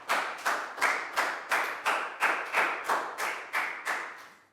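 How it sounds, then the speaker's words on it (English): Classroom clapping during a Year 4 health lesson: about a dozen evenly spaced, loud group claps in a steady rhythm, each with a short ringing tail, heard alone without talk. "Big round of applause for Net."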